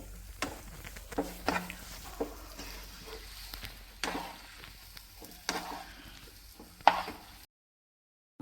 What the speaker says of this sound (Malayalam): അപ്പോൾ അത് ലാസ്റ്റ് പൊടിച്ചിട്ടിട്ടപ്പോൾ അതൊന്ന് മിക്സ് ആവാൻ വേണ്ടിയിട്ടാണ് നമ്മൾ വീണ്ടും ഇളക്കിക്കൊണ്ടിരിക്കുന്നത്